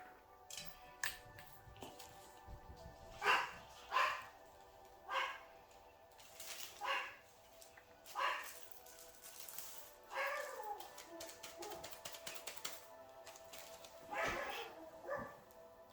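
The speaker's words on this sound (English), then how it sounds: "Sorry about the barking." A dog barks in scattered single woofs and short bursts, fairly distant and quiet, with pauses between them.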